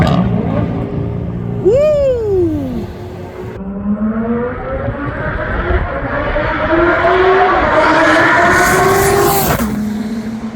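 Turbocharged 2,500 hp Dodge Viper ACR engine revving sharply then pulling hard through rising gears, loud and close, with a brief rev blip followed by a long climbing roar and a final shift.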